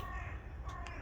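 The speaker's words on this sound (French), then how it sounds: "il y a les corbeaux" Crows cawing outdoors, a couple of short calls standing out briefly over steady background noise such as passing traffic, with no talking.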